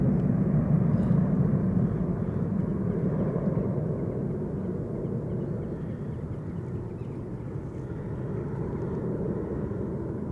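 A jet airliner climbing out after takeoff from Edinburgh Airport in icy weather gives a steady, distant, broad engine roar that slowly fades a little, alone with no voices.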